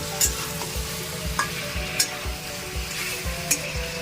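Onion chicken masala frying in a pan, stirred with steady rhythmic scrapes of a spatula over a constant low sizzle, close and without any talking.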